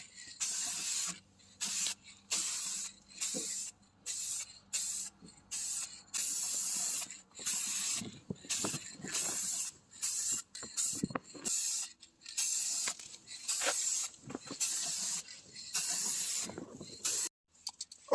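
Short bursts of spray can hissing, roughly a dozen and a half, come from painting a second coat of white on a door jamb, each lasting about a second with brief pauses between them.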